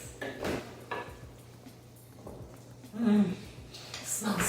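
Zucchini pie ingredients with salt, pepper and garlic powder are stirred in a bowl, giving a few soft, close scrapes and knocks under a low background hum.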